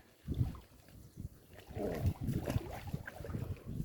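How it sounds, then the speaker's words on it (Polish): Strong wind gusts buffet the microphone at the water's edge while the coast is rough and gusty before a winter cold-water swim, the rumble rising and falling in broad surges throughout. "Wieje strasznie."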